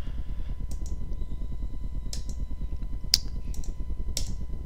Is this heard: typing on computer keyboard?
yes